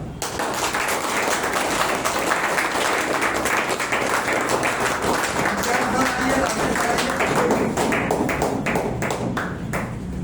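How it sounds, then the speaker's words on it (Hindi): Loud, sustained applause from an audience at a ceremony honoring a teacher, dense clapping that stays steady and close for the whole stretch, with some voices underneath. "एक बार जोरदार ताली।"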